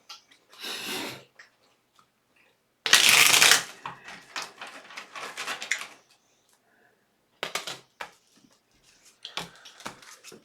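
Tarot cards are shuffled in several separate bursts of crisp riffling and flicking, close and fairly loud, with quiet gaps and small handling noises between them.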